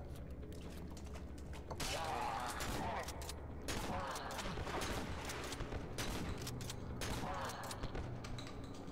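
Rapid bursts of video game weapon fire clatter continuously for several seconds, dense and loud, mixed with mechanical creaks and ratcheting noises, with faint voices underneath.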